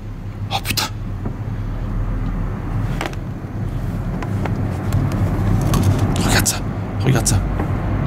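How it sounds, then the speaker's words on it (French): A car passes by, its low engine rumble and tire noise swelling steadily over several seconds while short voice exclamations break in over it. "Il y a une voiture."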